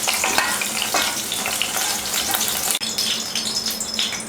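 Potatoes sizzle and crackle steadily in hot oil in a pan, a loud, dense frying hiss with brief stirring clatters and one short break.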